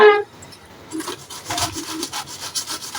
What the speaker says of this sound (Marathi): तर चला आपण बटाटे किसून घेऊया तर मी हे किसून घेते